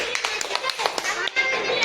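A group of people clap together at a family gathering, a quick burst of scattered, uneven hand claps, fairly close, running continuously with a voice mixed in.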